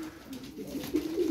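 Pigeons, one of a group of ten birds, cooing close by in a soft, low burbling call that swells and fades over a brief moment, with no talk.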